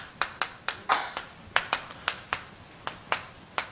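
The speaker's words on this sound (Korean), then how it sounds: "자, 박수 3번." Audience at a Korean church Bible lecture claps in sharp, separate, close-sounding hand claps, about a dozen in a loose irregular series spread evenly across the stretch, with near silence between them.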